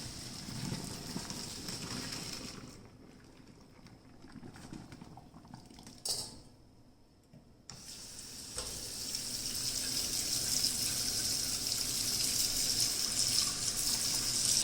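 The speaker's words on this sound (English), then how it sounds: "we're going to bring about 4 quarts of water to a boil" Water pouring from a tap into a pot, about four quarts for boiling noodles, a steady close gush that pauses briefly midway and then resumes, slowly growing fuller as the pot fills.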